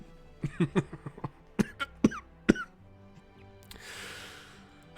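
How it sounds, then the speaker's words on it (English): A man coughs repeatedly in a harsh, rapid burst of several hacks, close by, followed by a rough exhale. "He's coughing a lot."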